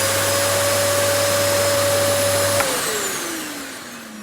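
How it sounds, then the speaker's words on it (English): A vacuum cleaner runs loudly and steadily with a whining motor hum, then switches off and winds down, its pitch sliding lower as it fades. "And the answer is a vacuum cleaner."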